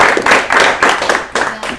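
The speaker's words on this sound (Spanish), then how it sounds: "Bueno, un aplauso." A short burst of clapping from a small group, several hands clapping irregularly and fairly close.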